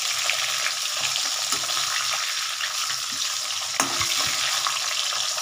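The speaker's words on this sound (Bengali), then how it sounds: "এইভাবে মাছগুলো ভাজতে থাকি" Pieces of katla fish, heads and tail, fry in hot oil with a loud, continuous close sizzle and one brief clatter near the end.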